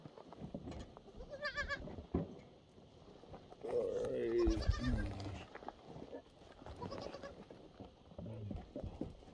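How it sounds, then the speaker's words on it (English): Baby goats bleating in short wavering cries at close range, several calls spread across the scene, with people talking over and between them. "Baby goats."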